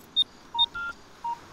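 Electronic beeps from a mobile phone keypad, four short tones spaced unevenly across about a second and a half, clean and moderately loud with no talk over them.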